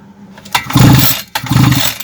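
A Kitprom petrol brush cutter with a faulty engine that won't start sputters through two brief cranking attempts, each catching for a moment with a rough, close, loud putter before dying.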